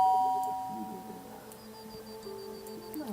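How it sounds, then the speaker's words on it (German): A doorbell chimes in The Sims 3 with a clear two-tone ding, ringing alone over quiet game ambience and soft background music. "dann müssen wir mal klingeln"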